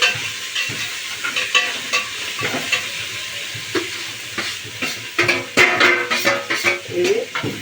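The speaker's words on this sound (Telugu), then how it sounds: "అల్లం పేస్ట్ ఎర్రగడ్డలు అయితే వేగిపోయినాయి వేసేస్తున్నాను ఇప్పుడు ఇవి కూడా వేగించుకోవాలి" Ginger paste and onions frying in a pan for coconut milk rice, a steady close sizzle broken by repeated scraping stir strokes that quicken and grow louder toward the end, with no talking.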